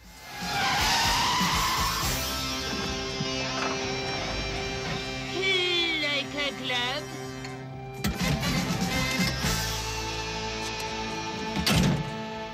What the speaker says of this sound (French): Déraper à cette vitesse, perpendiculairement à la circulation, se termine rarement bien.